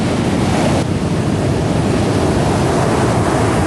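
Large ocean waves crash on a beach at Dampar, Lumajang, during high surf, a loud, continuous roaring wash with heavy wind buffeting the microphone and no voices.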